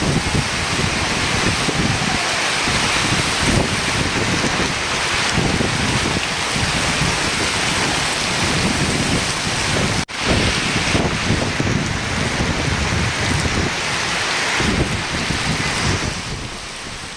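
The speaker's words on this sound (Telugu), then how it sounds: "వేములవాడతో పాటు జిల్లాలోని చాలా ప్రాంతాల్లో ఉరుములు మెరుపులతో కూడిన వర్షం పడింది" Heavy rain pours steadily over an open area in Vemulawada during a thunderstorm, a loud continuous wash of rain and gusting wind buffeting the microphone, with no distinct thunder crack standing out.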